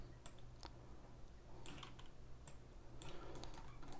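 Computer keyboard keys tapped while modelling a teapot in 3ds Max, a few quiet, irregular clicks that pick up toward the end over a steady low hum.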